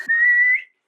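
A man whistles one steady, clear sustained note lasting about half a second, loud and close, ending with a brief slight upward slide before fading to silence.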